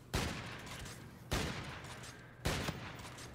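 Three loud sniper rifle shots in a video game, each a sharp crack with a short echoing tail, spaced roughly a second apart with no voices.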